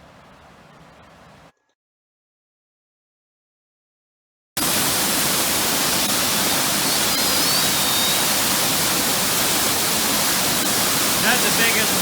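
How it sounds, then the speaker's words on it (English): A loud, steady broadband roar of a large waterfall in the North Carolina/Georgia mountains fills the scene after a brief quiet gap, constant and close, with no variation in intensity. "Is that the biggest waterfall you've ever seen?"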